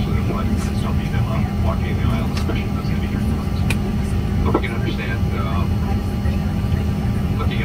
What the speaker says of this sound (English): this is just the flight lining up to take off